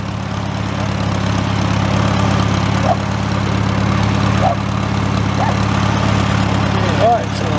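An antique tractor engine idles steadily with a low, throbbing drone throughout, loud and close, with a few faint clicks and knocks over the top.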